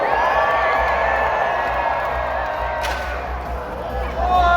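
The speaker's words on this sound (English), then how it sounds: "And the crowd goes wild!" Crowd at a live jousting show at the PNE cheers and whoops steadily, loud and close, with crowd noise holding throughout and a brief sharp burst near the end.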